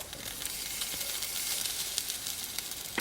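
Oladyi batter fries in a hot pan, giving a steady close sizzle with scattered crackles and pops throughout and no voices.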